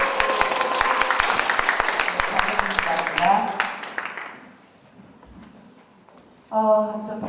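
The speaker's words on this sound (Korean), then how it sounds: "수고해 주신 발제자 토론자께 뜨거운 함성과 박수 부탁드립니다." Cheering and applause from a graduate school of public policy conference audience honoring its presenters and discussants: dense, loud clapping with voices for about four seconds that fades to quiet, before a brief tone near the end.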